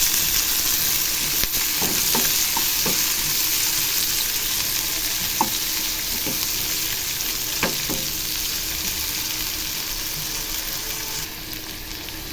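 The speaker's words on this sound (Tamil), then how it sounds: "இப்போ எண்ணெய் காய்ச்சதும் வெங்காயம் போட்டுக்கலாம் அதுக்கப்புறமா ரெண்டு ஏலக்காய் ரெண்டு லவங்கம் சோம்பு போட்டுக்கலாம்" Onion, cardamom, cloves and fennel seeds fry in hot oil for a chicken gravy. A steady, close sizzle and crackle continues, broken by occasional sharp clinks of a spatula against the pan.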